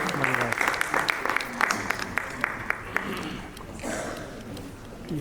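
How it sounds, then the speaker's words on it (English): A crowd claps at a summit inaugural session, a fairly soft, steady patter of applause with some individual claps standing out. "Let's have a big round of applause."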